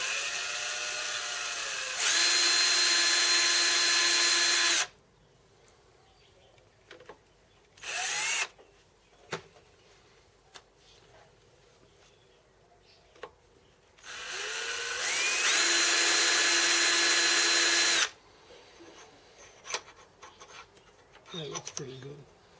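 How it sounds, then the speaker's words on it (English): A drill spot-drills a hole in a metal part in the workshop, two sustained whining runs of several seconds each, separated by quieter gaps with small handling knocks. "I'll just spot drill that position."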